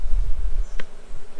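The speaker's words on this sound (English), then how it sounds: "See all these bees? What they're doing is they're trying to wave up the pheromone of the queen." A low, steady buzzing hum of many honeybees close by, fanning to spread the queen's pheromone, with a brief sharper tone in the middle.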